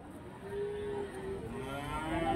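A young toro cow at a cattle market moos in a long, drawn-out low call, fairly close, rising slightly toward the end over a busy background murmur.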